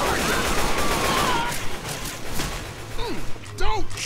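Rapid bursts of gunfire ring out in the zombie shooter Left 4 Dead 2, mixed with game effects and chatter from players talking over the shots.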